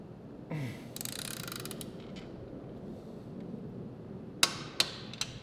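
Wrench tightening an engine mount nut on a 2016 Kawasaki ZX-6R during engine installation, with soft creaking and mechanical movement followed by three sharp metallic clicks near the end, close and fairly quiet.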